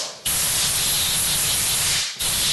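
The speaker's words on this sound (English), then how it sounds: "then of course we're going to go and use air, compressed air to blow it" Compressed air blasts debris out of an SDI Elite clevis for a 2015 Honda CRF450, a loud steady hiss lasting about two seconds, stopping briefly, then starting again close up.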